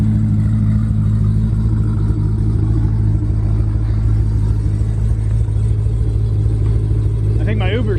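A car engine rumbles steadily close by with low mid-pitched drone and slight revving, continuous throughout, with a brief burst of voices near the end.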